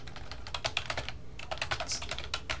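Someone types a Linux command on a computer keyboard, producing quick, close, fairly quiet key clicks in uneven bursts with a brief pause midway.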